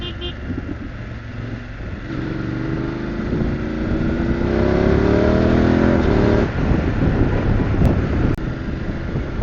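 A motorcycle engine drones steadily while riding, the rumble rising into a stronger rev midway before easing off, with wind buffeting the microphone throughout.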